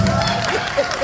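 An audience at an open-mic performance claps in a brief, dense burst, with some cheering and crowd murmur mixed in.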